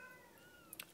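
Day-old newborn kittens give faint, thin mewing cries, a soft rising and falling mew followed by a couple of sharper squeaks, quiet and close with no talk.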